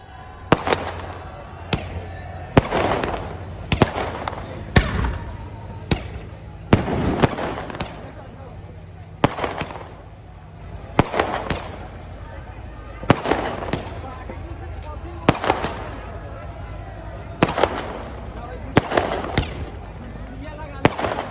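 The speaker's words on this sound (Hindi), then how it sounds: "इस दौरान लोगों ने जमकर पटाखे भी फोड़े।" Firecrackers bursting in a celebration at Kashi Vishwanath Dham: a long irregular series of sharp loud bangs and cracks, some close together, with crowd noise and voices murmuring between the blasts.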